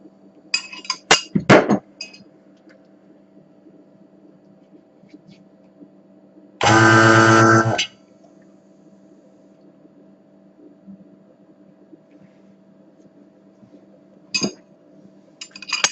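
Glass lab container used in a toluic acid synthesis clinks a few times near the start and end while being rinsed, with a steady loud burst of running water in the middle over a low hum.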